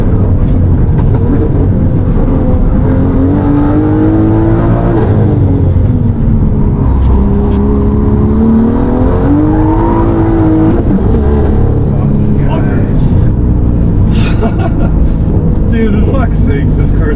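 Inside a street-class BMW M2 with carbon sport aero on a race track, the engine roars and repeatedly climbs and falls in pitch through gear changes, loud and close, with voices faintly underneath.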